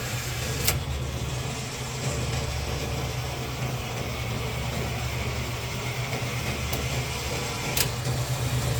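Spiral motors turning inside a Dixie Narco 501E vending machine, a steady low mechanical hum and whir running throughout, with a couple of brief clicks, close and moderately loud, no voices.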